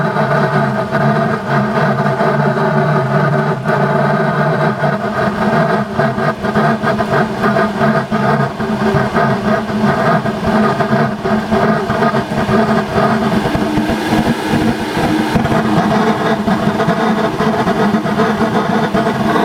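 A propane burner with its air blower cranked up roars steadily while burning wood inside a 36-inch steel pipe, a loud, continuous, dense rumble with a rough broadband hiss and no pauses.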